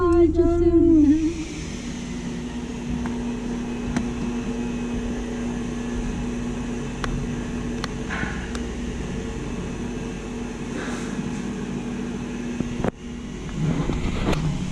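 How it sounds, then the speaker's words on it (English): A car engine cranks and catches near the start, a brief rising whine settling into a steady idling hum that continues faintly in the background, with occasional light clicks. "That was a car that just started right there."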